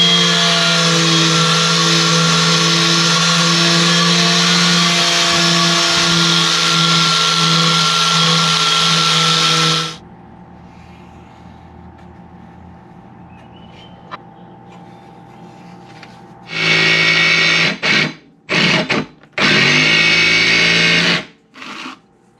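A power tool cuts a heavy-duty steel plate for a scrap-metal press brake, with a loud, steady, high-pitched whine for about ten seconds, a quiet gap, then several shorter loud bursts.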